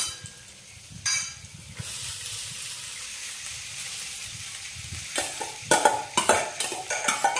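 Cooked rice being stirred and mixed with cashews, raisins and other ingredients in a pan: a steady soft sizzle with intermittent close scraping and clinking of the spoon against the pan, growing busier toward the end.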